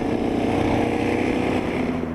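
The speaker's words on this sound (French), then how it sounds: "J'avoue que la mélodie est sympa du 4 cylindres." A Kawasaki Z800e four-cylinder motorcycle hums along on a small country road, a close, steady, buzzy engine drone from the rider's position with no talking.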